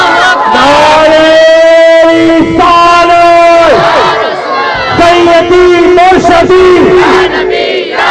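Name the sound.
crowd chanting responses to a slogan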